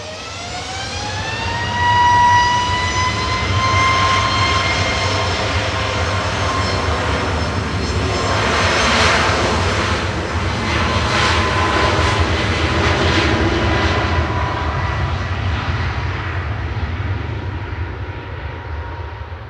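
A TUI Boeing 737 Max 8 lining up at Manchester for a flight to Mahon, Menorca, engines whining with rising tones that build into a loud, broad jet roar, then slowly fade.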